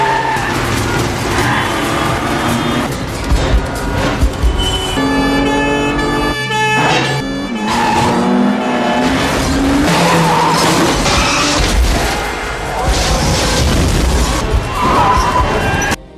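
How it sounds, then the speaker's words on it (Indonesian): High-speed car chase through Paris streets and tunnels, with screeching tire skids, roaring engines and sirens wailing in a loud, dense dramatic mix. "Aksi kejar-kejaran kembali berlangsung dengan kecepatan tinggi, kali ini melintas jalan raya hingga terowongan-terowongan di Paris."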